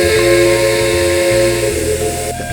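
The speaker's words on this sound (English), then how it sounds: "The whistle audio is a genuine K4 3-chime with an echo." Three-chime whistle of a K4 steam locomotive in the Trainz 2 video game: one loud, sustained, chord-like blast with hiss beneath it, ringing with echo and cutting off near the end.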